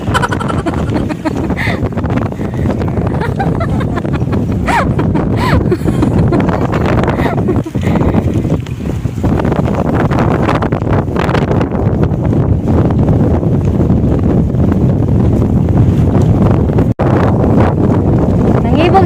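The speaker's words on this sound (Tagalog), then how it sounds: "Ay, kana may sa hangin." Strong wind buffets the microphone in a constant roaring rush on an outdoor walk, with gusts swelling and easing and voices talking faintly beneath it.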